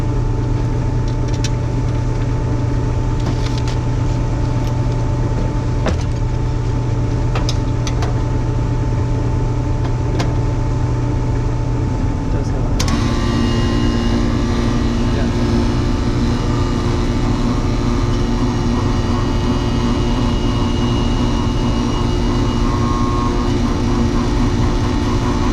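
A walk-in freezer condenser unit runs with a steady mechanical hum; partway through, its tone shifts as the condenser fan motor spins up, then it drones on continuously, fairly loud and close.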